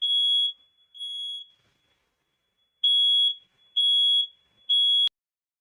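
A smoke alarm set off by cooking in another room gives five piercing high beeps, evenly spaced apart from a longer gap in the middle, each one cutting off cleanly into silence.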